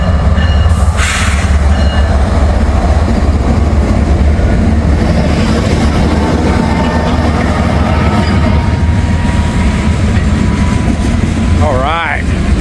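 Freight train cruising past after throttling up, a loud continuous rumble of rolling wheels and railcars close by, with a brief wheel squeal near the end.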